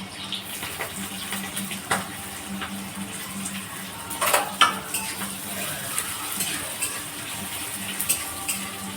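Sliced onions, green chillies and chopped garlic stirred in a pan give close scraping and clinking from a utensil, with a faint sizzle running underneath.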